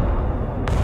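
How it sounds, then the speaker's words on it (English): Artillery firing in the war game Broken Arrow: a dense, continuous low rumble of distant guns with a sharper burst near the end, no voices. "Artillery ready to fire, sir."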